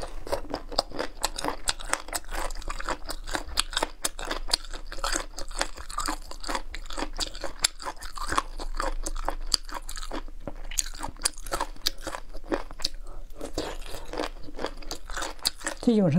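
Spicy mushroom food is chewed near the mic with loud, dense, rapid crunching that keeps up almost constantly, then a brief pause before the chewing resumes.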